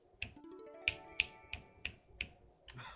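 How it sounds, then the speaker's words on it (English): Slow finger snaps played one at a time with a bare hand, six sharp, close clicks spaced roughly half a second apart over a faint low hum, with no talking. "Slow snap."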